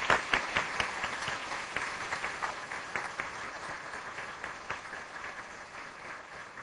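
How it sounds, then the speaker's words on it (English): An audience at a talk on LGBTQA rights applauds the keynote speaker, a steady crowd of clapping that starts strong with some sharper individual claps and gradually tapers off, with no speech over it. "So let's give a round of applause."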